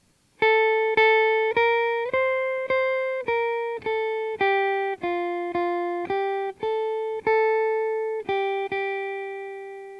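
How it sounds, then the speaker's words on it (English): A simple stepwise melody of Ode to Joy plays as a run of about fifteen sustained, bright tones with a buzzy electronic timbre, each note clearly separated and moving up and down by small steps, loud and alone with no voices. "you may recognize that as Ode to Joy from Beethoven's Fifth Symphony"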